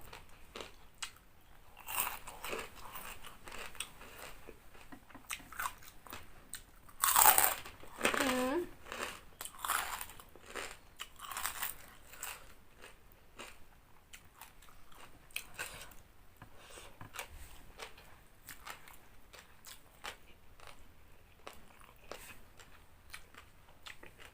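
Crunchy Thai pork rinds eaten with spicy papaya salad, close crisp bites and chewing crunches in irregular bursts, loudest around the middle, with faint voices in the background.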